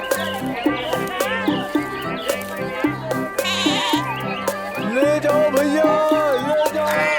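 A goat at a village market bleats over and over in an animated story, loud wavering cries in a repeating rhythm over a looping musical backing.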